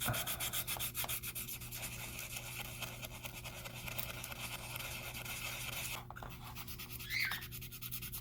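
Steady hand sanding, a continuous dry rubbing scrape with a brief pause and a couple of louder strokes near the end, close up.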